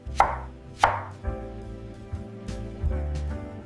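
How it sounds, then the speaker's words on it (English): Vegetables such as broccoli, peppers and zucchini are chopped on a board, with two sharp, close knife strikes near the start followed by softer, fainter cuts over a low background hum. "Chop your favorite veggies: broccoli, peppers, zucchini."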